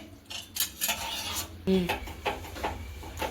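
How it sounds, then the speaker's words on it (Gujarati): Jaggery being stirred for peanut chikki in a pan over a low flame, made without oil or ghee: close, repeated scraping and clinking of a utensil against the pan in uneven strokes, with no talk. "પછી આપણે તેને ધીમા ગેસે જ હલાવવાનો છે"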